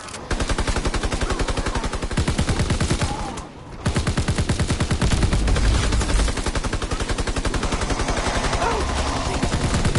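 Rapid automatic gunfire in a WWII shooter game, a loud, dense stream of shots that runs almost without pause, breaks off briefly, then resumes just as steadily to the end.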